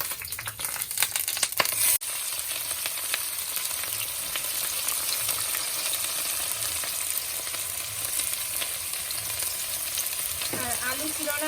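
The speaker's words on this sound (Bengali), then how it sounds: "জিরে দিয়ে দিয়েছি তেলের উপরে এবার পেঁয়াজগুলো ভেজে নেবো" Onions sizzling in hot oil with cumin seeds in a home kitchen pan: a continuous close frying hiss with a few clinks and stirring scrapes early on.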